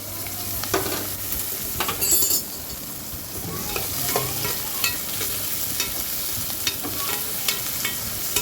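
Tomatoes and ginger garlic paste sauté in a hot pan for vegetable kurma, a continuous close sizzle with repeated spatula scrapes and stirring knocks throughout.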